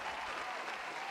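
Steady applause from a crowd, dense and even throughout, fairly loud with no voices over it.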